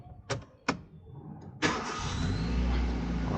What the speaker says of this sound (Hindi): अब मैं कार को स्टार्ट करता हूँ।